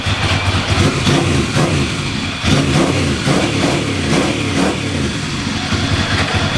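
A 125cc motorcycle engine revs loudly and close up, running through repeated throttle blips and surges that rise and fall without pause. No voices are heard over it.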